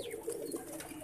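A domestic pigeon coos softly, one short low throaty call, close but faint, with no other sounds around it.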